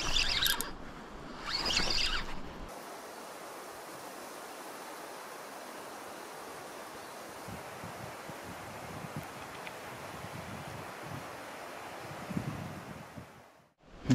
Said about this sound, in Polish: dzisiaj silny wiatr